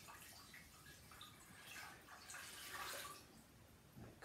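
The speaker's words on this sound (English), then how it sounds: "I'm going to pour my water" Water is poured into a bowl while a garden-style floral arrangement is prepared, giving a soft, steady trickle and splash that runs for several seconds, faint and alone.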